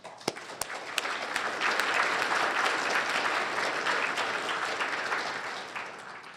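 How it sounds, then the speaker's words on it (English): An audience at a City Club forum breaks into a warm round of applause, a few sharp early claps swelling into steady, full clapping that slowly tapers near the end. "Please join me in a warm round of applause for all of them."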